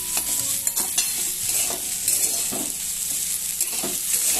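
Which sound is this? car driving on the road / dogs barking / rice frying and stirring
rice frying and stirring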